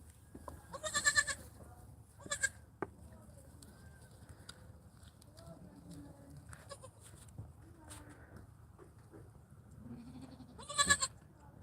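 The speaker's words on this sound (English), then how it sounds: "My cat Tittles is watching your goats." Goats bleat in loud, wavering cries, a couple early on and another near the end, with quieter calls and faint background sounds between.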